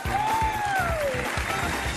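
Studio audience applause on a television game show, a thick, continuous wash of clapping under a pulsing music beat, with a sliding whistle-like tone rising and falling across it.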